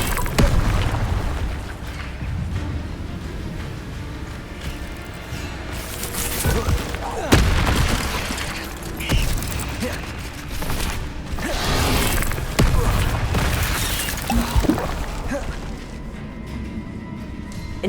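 Incendio fire spells blasting repeatedly in the video game Hogwarts Legacy, a run of booming bursts and crackling pops over a dense wash of game effects and music, with a voice calling out at times.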